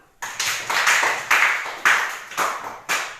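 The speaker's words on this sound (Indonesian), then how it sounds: "tepuk tangan dulu" About seven hand claps in a steady, unhurried rhythm, each sharp and close, with no talking.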